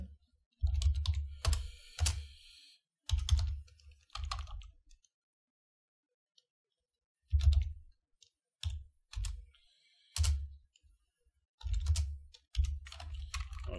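Someone types an SQL query on a computer keyboard in bursts of fast key clicks separated by a pause of several seconds. The clicks are close and distinct in an otherwise quiet room.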